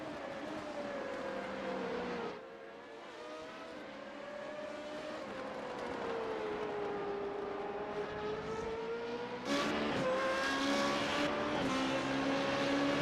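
Formula 3.5 race car engines wail at Sebring in iRacing, a sustained high-revving drone that rises and falls through gear changes, joined by a second car's engine that grows louder near the end, close and steady with no talk.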